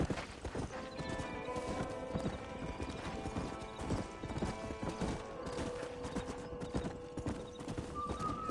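Horses in the Red Dead Redemption western video game clop steadily along, hooves beating in a quick continuous rhythm with a whinny breaking through over the game's ambient backdrop.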